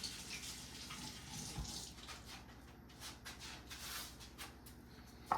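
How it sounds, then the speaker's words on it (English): A kitchen tap runs while hands are wetted before shaping ground chicken mixture, giving a faint, steady hiss of running water with soft splashing and no talk. "I'm going to wet my hands because it'll make it where it won't stick to your hands"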